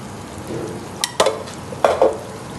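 Beef with chilli powder and spice masala frying for nihari gives a low steady sizzle in the pan, with a few sharper stirring scrapes and clatters near the end.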